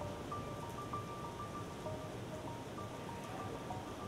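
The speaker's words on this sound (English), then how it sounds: "The UWRL rainmaker produces a uniform raindrop size of 4 millimeters" Simulated rain from a UWRL rainmaker falling on mulch in an erosion test, a steady, even patter of drops with a faint mechanical tone underneath, alone and continuous.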